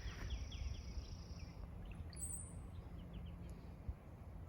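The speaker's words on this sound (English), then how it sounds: "I love the sounds of birds." Birds singing in a rose garden, with faint high chirps and short trills at a distance over a steady low background rumble.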